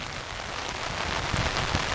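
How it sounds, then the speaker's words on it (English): Rain falls steadily during a short outdoor walk, a close, even hiss of drops spattering on surfaces with no voices, lasting under two seconds. "We're going to take a 1-minute walk in the rain here"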